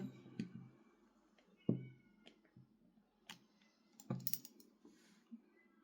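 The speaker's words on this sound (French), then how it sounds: "Je ne sais pas si vous entendez Vénus miauler." Soft, faint cat meows come a few times at irregular intervals, mixed with scattered light clicks and taps nearby.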